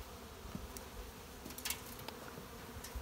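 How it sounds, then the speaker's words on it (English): Honey bees buzzing around an open-air colony where the comb has been removed, robber bees moving in; a faint, steady hum with a few brief louder passes. "the robber bees are coming in to clean it up now"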